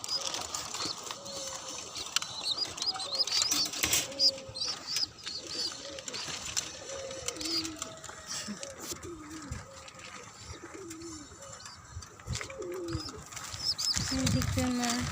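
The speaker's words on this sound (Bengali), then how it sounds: "কবুতরের বাচ্চা," Pigeons and their chicks cooing in a rooftop garden with quail nearby, repeated low coos with occasional chirps and wing flaps, moderately close, with faint talk in the background.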